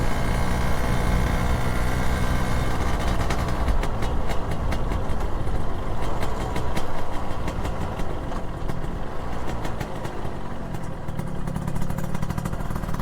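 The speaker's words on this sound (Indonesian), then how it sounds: "Suara mesin 2 tak itu jelas ya, gresek-greseknya itu beda dengan motor-motor 4 tak" A 2001 Suzuki 120R two-stroke motorcycle engine runs steadily nearby, a loud, continuous crackly buzz with a rapid ticking rattle and no talking.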